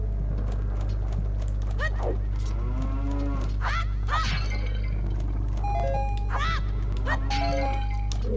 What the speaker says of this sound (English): We've got cows.